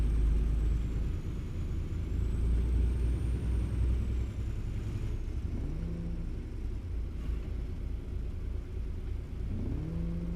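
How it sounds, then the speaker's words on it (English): A loud truck engine rumbles steadily throughout a truck-driving video game delivery run, with a low droning roar, slight revving swells and a couple of brief tonal squeals, no speech over it. "Whose truck is that? It's so loud."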